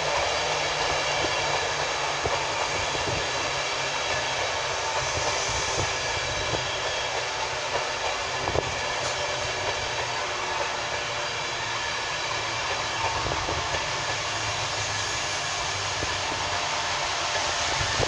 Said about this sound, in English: the penultimate train to turn up is going to be the 1657 London North Eastern Railway service